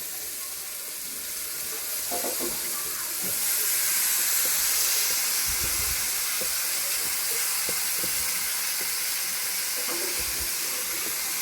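Flattened rice (poha) tipped into a hot pan of onions for a home-style onion poha, bringing a steady broadband sizzle and hiss that swells after a few seconds, with scattered light stirring knocks underneath and no talking.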